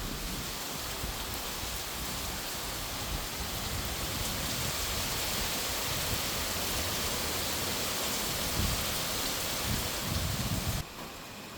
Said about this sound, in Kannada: ಗಿಡ ಮರಗಳೆಲ್ಲ, ಮಳೆ ಬರ್ತಾ ಇರೋದು